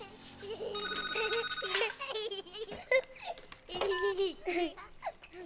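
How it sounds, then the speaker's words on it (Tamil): A telephone rings in a family home in a Tamil film scene, a bright repeating electronic ring over music and overlapping voices of adults and a child. "ஏய் ஃபோன் எடுங்க."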